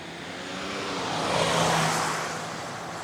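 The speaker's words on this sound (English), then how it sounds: "let's see how the driving goes" A 2023 Ford Ranger Platinum on bigger wheels drives along, its engine giving a steady broadband rumble with a low drone that swells toward the middle and then eases, with no talking.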